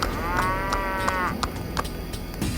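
A cartoon buffalo gives a loud, drawn-out moo with a wavering tone, close and alone over a busy music bed, followed by a few sharp percussive hits.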